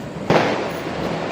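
A firecracker bursting outdoors during a celebration, one sharp loud crack followed by a fading crackle and hiss, with people talking nearby.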